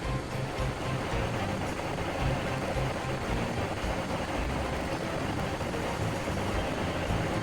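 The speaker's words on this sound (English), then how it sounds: "Yeah, that's a train" A train running in the railroad game Railroads Online, a steady, moderately quiet rumbling rail noise with no talk.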